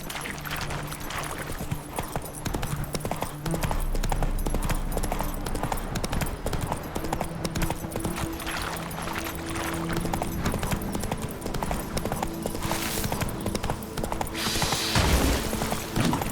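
A horse gallops in The Witcher 3: Blood and Wine, with continuous quick clip-clop hoofbeats over game ambience and a brief burst of louder noise near the end.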